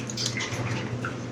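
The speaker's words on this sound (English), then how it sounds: "Okay, I just let the water out" Dye water drains out of a tub as a steady close gurgling rush with small splashes and drips throughout, heard alone.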